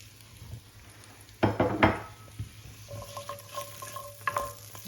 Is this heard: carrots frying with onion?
yes